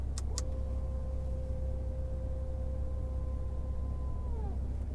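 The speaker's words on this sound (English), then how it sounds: "the car lifts up nicely to make it easier to clear stuff with the front end." Front axle lift system raising a 2023 Porsche 911 Carrera T: after two clicks, a steady whining electric hum runs for about four seconds and then winds down, over a constant low idling rumble.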